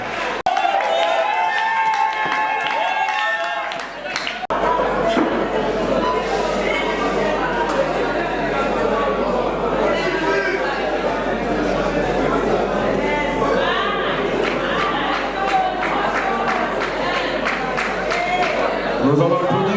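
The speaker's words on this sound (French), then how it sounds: "Applaudissons encore une fois pour Coco Seigneur." An audience applauds and cheers at a diploma ceremony, sustained clapping and lively crowd noise filling most of the stretch, with talk mixed in and a loud surge near the end.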